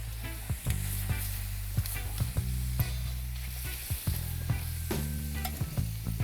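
Goat meat pieces fry in a hot oiled pan with steady sizzling, broken by clinks and scrapes of a utensil stirring and turning them, while a low steady hum runs underneath throughout.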